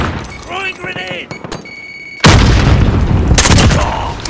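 Grenade blast in a multiplayer shooter video game: after a stretch of tonal game sounds, a sudden loud broadband boom hits and rumbles on with crackling debris, a voice speaking over the start.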